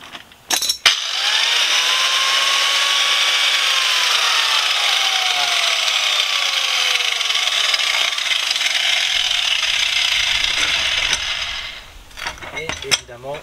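An angle grinder cutting through a nut on the front shock absorber of a Fiat 500, one loud continuous high whine lasting about ten seconds with a falling pitch tone, then the disc winding down and metallic clatter.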